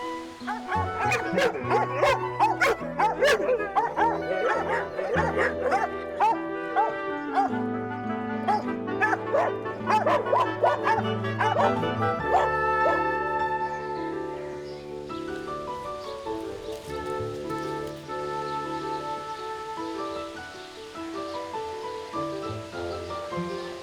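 At an animal shelter, a dog that spent nine years shut in a garage barks and whimpers in repeated short yips and whines, fairly close, over a soft tonal background that fades into a quieter, steady bed.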